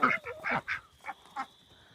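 Several short honking duck calls from a small backyard farm flock, loud and close, in separate bursts with brief gaps and fading toward the end.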